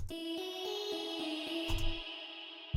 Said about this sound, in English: take a sustained vocal note, pitch it up and down into a melody